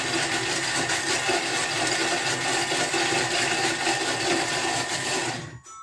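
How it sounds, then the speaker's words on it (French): A kitchen food processor blends chocolate with grated tonka bean, a loud, steady whirring roar that runs continuously for several seconds and stops abruptly at the end. "insérer le couvercle, le gobelet doseur et mixer"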